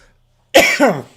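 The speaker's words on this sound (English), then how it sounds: "It was a cough." A single sharp cough breaks a brief silence, loud and close, followed by a rough throaty tail.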